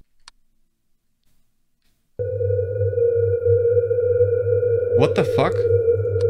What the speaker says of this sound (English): Distortion. No. Camera malfunction?